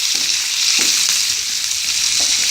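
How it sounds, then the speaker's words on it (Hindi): Chopped onion and vegetables sizzle loudly in hot oil in a pan for sooji upma, a continuous close hiss with a few soft stirring scrapes and no talking. "सब्जियों को हमें बहुत ज़्यादा फ्राई नहीं करना है।"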